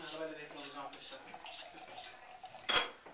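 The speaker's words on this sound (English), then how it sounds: "So he puts the knife blade at 10 degrees against the steel, and with very gentle movements brings it down slowly." Knife blade drawn gently at a shallow angle down a sharpening steel during a whole-pig butchering demonstration, a few soft metallic swipes ending in one bright clink, with a voice talking quietly at first.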